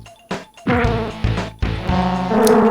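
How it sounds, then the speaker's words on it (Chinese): Robot mosquito enemy in the SFC Battletoads game, a harsh electronic buzzing and whining that starts and stops in several bursts over chiptune sounds, loud and close. "这是啥？ 机器蚊子啊！"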